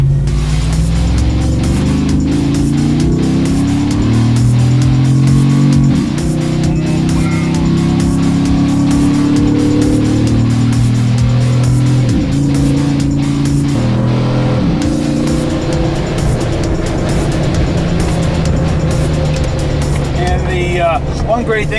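A 2014 Anvil Jeep JKU Sport with a Hemi engine being driven, its steady engine drone and rising revs continuous and loud from the cabin, with someone talking over it.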